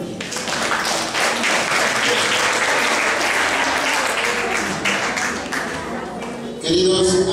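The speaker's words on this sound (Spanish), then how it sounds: "Un aplauso para él." Steady, loud applause from an audience at a village community gathering for a religious festival in Peru, sustained dense clapping filling the room for several seconds, with a shift in tone near the end.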